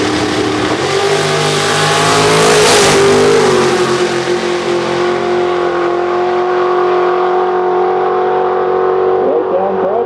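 A 1963 Chevrolet Corvette nitrous outlaw street drag car accelerates hard, a loud sustained engine roar that climbs in pitch and then holds steady as it pulls away, with no talk over it.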